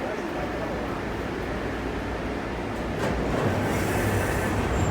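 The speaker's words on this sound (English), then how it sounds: "not so sure because train's departing." A metro train pulls out of Lai King Station with a steady rumble of wheels and motors that swells near the end, heard close on the platform with a faint high squeal toward the close.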